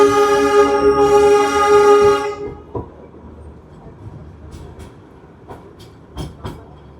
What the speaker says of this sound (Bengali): আমাদের টয় ট্রেন এখন প্রবেশ করলো ঘুম রেলওয়ে স্টেশনে।